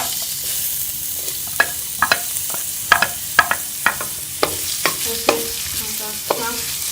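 Onions frying in a pan for a chana samosa filling give off a continuous sizzle, punctuated by sharp scraping clicks as a spoon stirs them repeatedly, close up and without talk.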